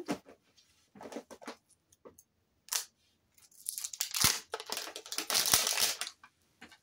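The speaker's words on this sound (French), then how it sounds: "je prends du scotch." Crinkly plastic tearing and crackling in short bursts, then a longer stretch of ripping and rustling up close as the wrapping is pulled off a new roll of adhesive tape.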